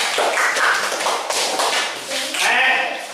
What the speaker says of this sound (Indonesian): Kasih tepuk tangan dulu untuk kelompok kata